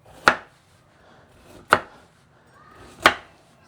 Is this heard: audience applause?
no